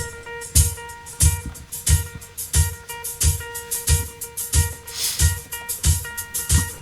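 A real good 1970s disco record played back slowed down, heavy regular beats thumping roughly twice a second under sustained tonal layers, loud and continuous with no talking.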